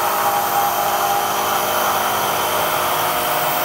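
A Bridgeport milling machine driven by Clearpath servos cuts a hole, giving a steady, loud, even whine and hiss with no pauses throughout.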